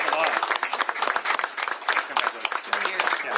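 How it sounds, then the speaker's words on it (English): Crowd applause for State Representative Stephanie Barnard at a governor's bill signing, lively uneven clapping with sharp individual claps and cheering or voices mixed through it, fairly close. "Please give her a round of applause"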